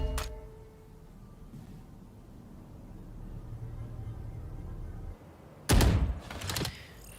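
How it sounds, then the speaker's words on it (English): Gunfire in a Valorant esports match, starting with a lone shot, then a low rumbling stretch and later a loud burst of rapid rifle fire with a shorter follow-up burst. "Masick sees a couple of bullets whiz past his head."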